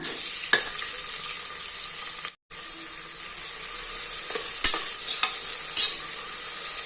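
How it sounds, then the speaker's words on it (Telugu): Sliced onions fry in hot oil inside a pressure cooker with a bright, continuous sizzle. A few sharp utensil clicks come through, and the sound briefly cuts out partway. "ఉల్లిపాయ ముక్కలు వేసేసి ఫ్రై చేసుకుందాం"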